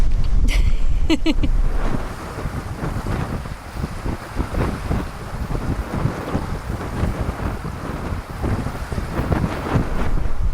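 Strong wind buffeting the microphone while a sailboat under full sail, engine off, moves at 6.5 knots in 13 to 15 knot winds, waves rushing and splashing steadily, brief voices near the start.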